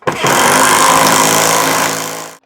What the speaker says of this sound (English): Let's see how the impact driver does.